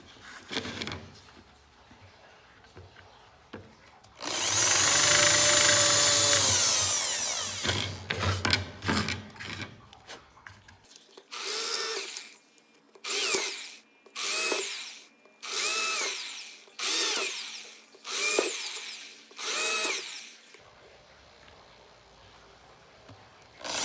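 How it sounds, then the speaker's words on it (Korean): Power drill boring a row of holes into a wooden workpiece for a handmade wooden ring: one long whining burst, then about eight short, evenly spaced drilling bursts, close and loud, with quiet gaps between them. "자, 한번 뚫어 볼게요."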